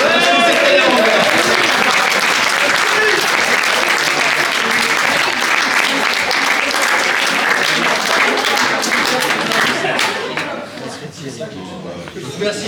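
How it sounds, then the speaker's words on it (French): Wedding guests clapping in a dense, sustained round of applause that fills the room, loud and steady before thinning out near the end. "Et puis on peut applaudir Thierry et Serge."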